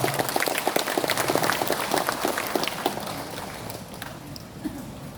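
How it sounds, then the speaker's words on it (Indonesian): Applause from a seminar audience in an Indonesian surau, a dense run of many hands clapping at once that slowly thins and fades toward the end, with no voices over it. "tepuk tangan untuk Al-Qa'ah Baitul Jafar"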